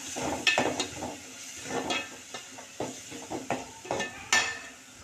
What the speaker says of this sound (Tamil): அதையும் சேர்த்து நல்லா கிளறிக்கலாம்.